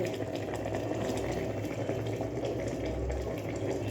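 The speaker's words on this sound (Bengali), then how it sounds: "ফুটছে, শুনতে পাচ্ছ?" Rice boils in a pot on the stove, a continuous bubbling, watery hiss that stays steady and close for the whole stretch, with no talking.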